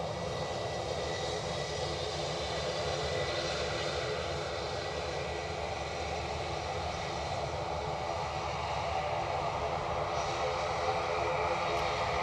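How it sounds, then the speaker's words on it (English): A noisy ATR turboprop of Aer Lingus departing Edinburgh Airport for Dublin, its engines giving a steady, loud broadband roar with a droning hum that holds evenly throughout, heard alone without talk. "Sounds like we've got a noisy ATR next out"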